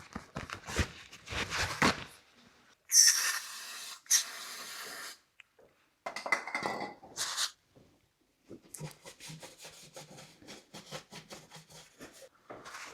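Brake cleaner sprays from an aerosol can onto a Jaguar XJC V12 body panel in several short hissing bursts. The bursts are fairly quiet and come with handling noises in between.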